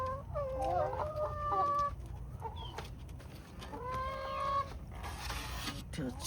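Chickens on a Florida chicken farm cluck and squawk in repeated bursts close by, with a rooster-like call among them over steady background noise.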